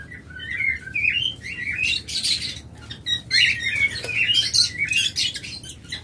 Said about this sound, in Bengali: দেখুন হিউজ পরিমাণ লাভবার্ড রয়েছে